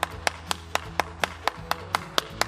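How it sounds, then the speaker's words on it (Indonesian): Rhythmic group clapping in unison from children at an online Easter Sunday school session, about eleven crisp, evenly spaced claps with a low tone running underneath. "Tepuk tangan dulu dong buat Super Kids yang semangat, yang pinter, doanya juga pinter semua."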